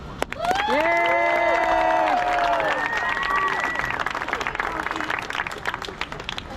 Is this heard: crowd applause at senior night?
yes